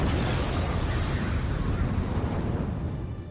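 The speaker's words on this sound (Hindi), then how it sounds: "रूस के इस हमले के बाद वहां तेज धमाका हुआ" A Russian drone bombing of a Ukrainian military site, thought to have destroyed an S-300 air defence system, gives a loud, sustained broadband roar of an explosion that rumbles on and slowly fades.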